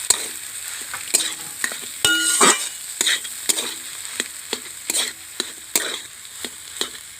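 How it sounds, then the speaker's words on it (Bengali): Grated potato and egg for egg cutlets are stirred and fried in a wok, with sharp, rhythmic spatula scrapes and clanks against the metal over a soft sizzle, loud and close, with no speech. "গ্রেট করা আলু আর ডিমটা আমি দিয়ে দিচ্ছি কড়ার মধ্যে, দিয়ে ভালো করে আমি নেড়ে চেড়ে নেব"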